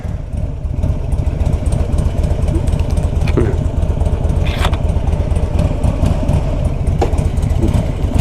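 A 2004 Harley Davidson Ultra Classic with 61,000 miles runs with a deep, steady, loping rumble, loud and close, with faint clatter over the engine note.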